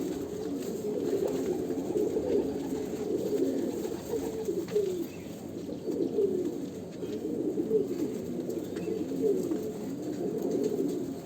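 Several domestic Andhra pigeons cooing continuously and close by, overlapping rolling coos repeating throughout with a low background hum, no talk.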